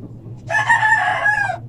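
A chicken calling out in a farmyard, one loud drawn-out crowing cry over a low steady background hum.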